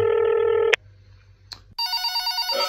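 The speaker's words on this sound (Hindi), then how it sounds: "किसका फोन आ रहा है यार" A telephone rings in short electronic bursts, loud and close, with a pause between rings, then a different warbling ring tone starts.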